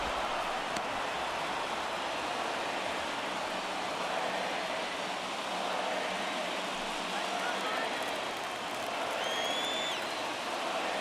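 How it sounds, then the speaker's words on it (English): A crowd roars steadily at a baseball game in MLB The Show 22, a dense wash of cheering and noise that stays constant throughout, with faint whistles near the end. "Crowd locked in right now."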